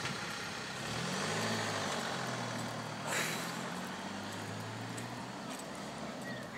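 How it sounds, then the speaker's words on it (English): A vehicle buzzes past with a rising then fading engine drone, a steady low hum under broad road noise. "Hear that buzzing sound? It's a car."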